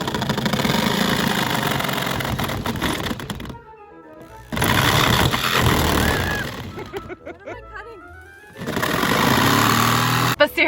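A jigsaw cutting a skylight opening through a metal van roof, loud buzzing rattling bursts stopping and restarting, close by, with a voice in the pauses.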